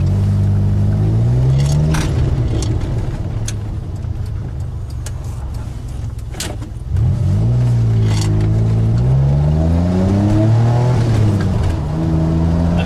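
DeLorean DMC-12 with its Renault engine being driven, the engine note loud and close, rising through revs, dipping around a gear change, then climbing again steadily.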